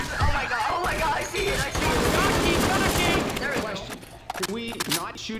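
Rapid bursts of gunfire in the zombie shooter Left 4 Dead 2, loud and dense for several seconds, with players talking over the shots and a few scattered pops near the end.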